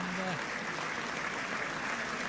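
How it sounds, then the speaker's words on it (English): Stadium crowd at a 2006 Leigh versus Widnes rugby league match applauding an injured player carried off on a stretcher, a steady distant wash of applause from both sets of supporters, with a commentator's voice over it. "A great round of applause, and it must be said from both sets of supporters."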